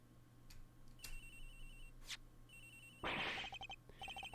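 A mobile phone rings somewhere nearby in the Ace Attorney Investigations video game, a repeating electronic ringtone of bright tonal bursts building to a louder, denser ring pattern near the end, with no voices.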